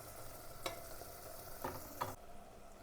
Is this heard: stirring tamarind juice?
yes